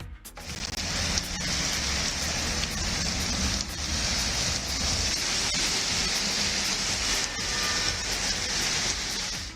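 Steady, heavy rain pours down over town streets as a dense, continuous hiss, close and unbroken, with no voices.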